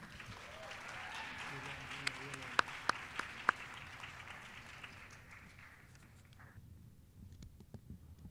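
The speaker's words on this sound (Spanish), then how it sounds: "Invitamos con un fuerte aplauso al Magíster Anel González." Applause rises from a congress audience welcoming a speaker, a broad steady wash of clapping with a few sharp close claps near the middle, gradually thinning and fading out toward the end.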